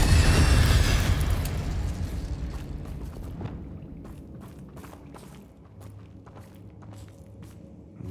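The Incendio fire spell cast in Hogwarts Legacy, a loud whooshing burst of flame that swells at once and then slowly fades into rumbling, crackling game ambience, with no voices.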